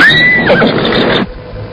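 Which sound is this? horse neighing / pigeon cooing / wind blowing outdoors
horse neighing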